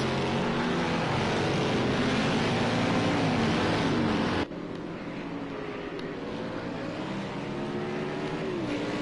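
Race cars in a playoff race of a sim racing league, with a loud continuous engine drone whose pitch rises and shifts throughout and then cuts abruptly to a slightly quieter engine roar midway.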